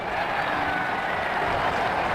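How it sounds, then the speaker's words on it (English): A stadium crowd in the video game Ashes Cricket 2009 cheers a batting shot, making a continuous, broad roar of applause and cheering at an even level with no break. "The crowd enjoyed that shot."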